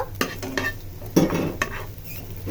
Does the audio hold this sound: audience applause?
no